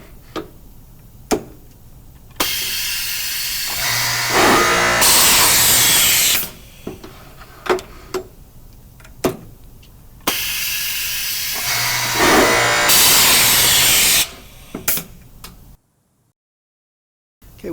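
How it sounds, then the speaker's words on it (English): A power drill bores into the face of a Grass Zargen drawer in two sustained bursts, each rising to a loud, bright whine, with sharp clicks and knocks in between, then cutting to silence at the end. "we will then drill our drawer face."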